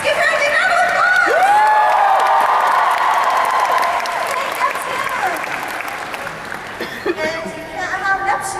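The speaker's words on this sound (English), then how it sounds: "Let's give her a big round of applause!" A large convention crowd at an Anime Expo Sailor Moon panel applauds loudly for Sailor Neptune, with high whoops and cheers over the clapping, fading slightly toward the end.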